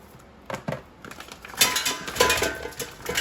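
Frozen, rock-solid mussels tumble into an air fryer basket with several hard clinks and clattering knocks, sparse at first and then a busier rattle, close and fairly loud.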